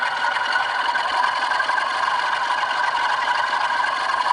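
A Bachmann Class 47 model diesel locomotive with sound fitted, running at maximum revs: a steady, dense engine drone with a fine rattling texture that holds at an even loudness throughout, with no talk.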